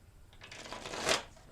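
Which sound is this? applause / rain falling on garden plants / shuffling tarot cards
shuffling tarot cards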